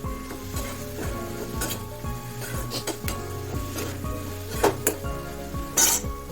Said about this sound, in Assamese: এতিয়া দি পিনে তেলত লৰাই দিছোঁ